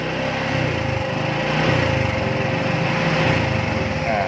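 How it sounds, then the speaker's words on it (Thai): A small engine revs up with a rising, buzzing drone, loud and close, holding a raised speed with a steady pulsing rhythm for several seconds and no talking. "พอเร่งเครื่องยนต์ปุ๊บ"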